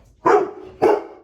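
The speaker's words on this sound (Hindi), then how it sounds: "पता नहीं मेरा कैप्टन क्यों भौंक रहा है।" A pet dog barks twice in a room, two loud separate woofs about half a second apart, close by, with no talk over them.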